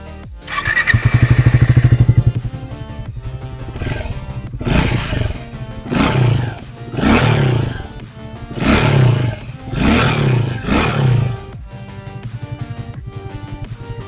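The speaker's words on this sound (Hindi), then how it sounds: "हमें लगता है इसका जो नॉइज है वो डीप ग्रंटी एग्जॉस्ट नोट है" Triumph Speed T4 motorcycle exhaust, deep and grunty, blips up into a loud roar, then revs in six or seven sharp throttle bursts over a steady idle, close up.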